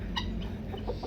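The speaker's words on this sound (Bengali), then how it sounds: "সব ঘোরাফেরা করছে, গিনি ফল।" Guinea fowl roam a farmhouse farm, giving a brief, fairly close call or two over a steady outdoor background.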